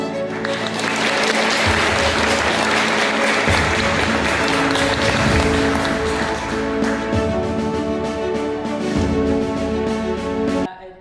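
Sustained applause at an Estonian art olympiad award ceremony, welcoming a named organiser, with music playing underneath; the clapping holds steady and fairly loud throughout before cutting off abruptly at the end.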